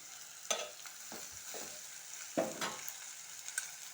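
Ridge gourd pieces sizzle and fry in a pan for a curry, with several distinct scraping stir strokes breaking through the steady hiss, close and moderately loud with no talking.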